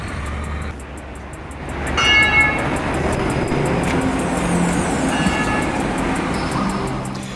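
Trains at Ghent Sint-Pieters railway station in Flanders produce a steady, moderately loud rumble with metallic squeals and tonal whines, as a train runs past and brakes nearby under continuous station ambience, with no talking.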